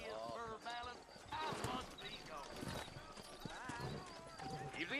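Horse hooves clip-clop in a steady rhythm close by in the video game Red Dead Redemption, with a voice talking over them throughout.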